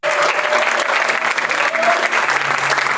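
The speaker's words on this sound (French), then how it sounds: "Je vous demande de faire un maximum de bruit pour Yannick." A French audience claps loudly and continuously, a dense wash of applause throughout, with faint voices mixed in.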